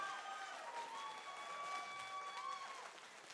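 A game show audience at a convention stage event claps in steady, moderately distant applause, with a held musical tone ringing over the crowd throughout.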